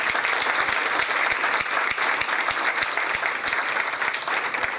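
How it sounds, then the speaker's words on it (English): A large audience applauds panelists at the close of a World Affairs Council economic seminar in Atlanta, with dense steady clapping that stays loud and even for the whole stretch, no voices over it. "we're going to end with another huge round of applause for our panelists"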